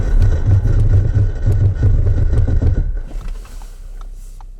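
A 2021 Audi Q7 55 TFSI facelift under a braking test gives a steady, loud low engine and road rumble for about three seconds, then drops sharply to a quieter, fading hum.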